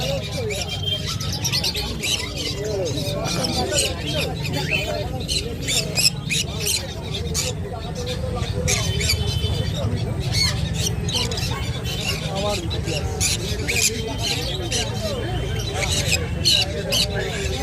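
Birds chirp and squawk continuously at the Serampore bird market on a rainy Sunday, where conures, cockatiels and budgies are sold. The bright calls are dense and steady throughout, mixed with crowd noise and people talking.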